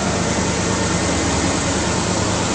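A 2006 Ford F-150 Harley-Davidson edition pickup idles just after starting, a steady, even engine rumble with broadband exhaust hiss that holds constant and close throughout, no voices over it.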